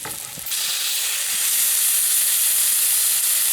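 Venison steak from a West Texas buck hits a hot pan and breaks into a loud, close, continuous sizzle that swells and holds steady with a bright hissing edge, with no voices.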